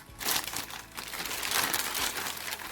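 A plastic delivery package is crumpled and crinkled by hand up close, giving irregular bursts of crackling rustle with short pauses between them, fairly quiet and without talking.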